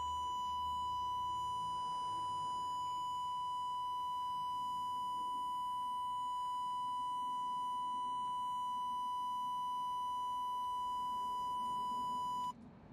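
A continuous high electronic beep tone from a Datsun 240Z's electrical system during fuse box replacement sounds steadily for about twelve seconds, then cuts off, with faint background noise beneath.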